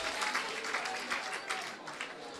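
Football crowd at a Budusò match applauding a departing number 17 after a red card, a dense, steady wash of clapping held at an even level throughout.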